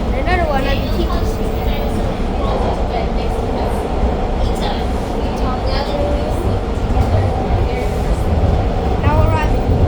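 A TTC subway train pulls into a Toronto station on Line 1, a loud, steady rumble and rail roar with squealing wheels, while people talk nearby.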